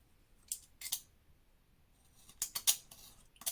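Paper being cut at a 45-degree angle on a cutting mat for a mini album craft, heard as a few short, crisp scraping bursts separated by quiet pauses, close and fairly soft.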